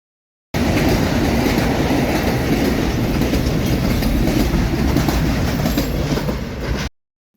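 Transagent Rail locomotive 182 533 hauls a container train through Slavonski Brod station, a loud, close, sustained rumble with clickety-clack of wheels on rail joints and a faint squeal, ending abruptly.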